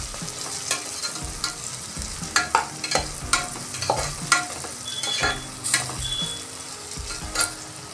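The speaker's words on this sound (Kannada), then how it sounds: "ಅದಕ್ಕೆ ಮುಂಚಿತವಾಗಿ ಈರುಳ್ಳಿ ಸ್ಪೈಸಸ್ ಎಲ್ಲ ಹಾಕಿದೆ, ಬಾಡಿಸ್ಕೊಳ್ತಾ ಇದ್ದೀನಿ" Onion and spices sautéing in a pan for a hotel-style veg pulao, a close sizzle punctuated by frequent rhythmic spoon scrapes and knocks against the pan.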